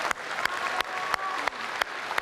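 An audience applauds the presidential candidates at a televised Indonesian presidential debate: dense, steady clapping that fills the hall, with a few sharper bursts standing out from the wash.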